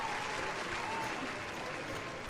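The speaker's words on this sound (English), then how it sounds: "round of applause there" Steady, dense applause from a crowd at a live poker tournament fills the room, rewarding a nice fold, heard as continuous clapping at an even level throughout.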